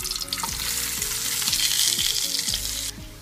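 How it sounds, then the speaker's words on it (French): Herbes de Provence sizzle in hot olive oil in a frying pan, a steady loud crackle with soft scraping strokes roughly every half second, ending abruptly as the sizzle drops away. "J'ai mis un peu d'huile d'olive dans une poêle et je vais les faire chauffer."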